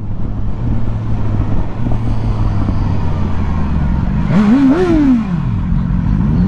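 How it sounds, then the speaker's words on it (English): A BMW S1000R motorcycle engine idles with a low steady hum, then gives one sharp rev that climbs and falls in pitch near the end, with traffic around it. "He thought I was just revving"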